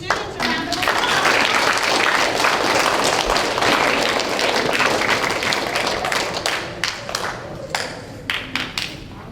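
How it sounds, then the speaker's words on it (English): A room of people applauds students at a fifth-grade school celebration, with thick, loud clapping from the start that gradually thins out, leaving scattered individual claps near the end. "a round of applause"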